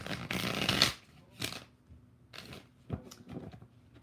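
A deck of tarot cards is shuffled during a live reading: one long riffle followed by several shorter, quieter shuffles and card taps, close and soft with no talk.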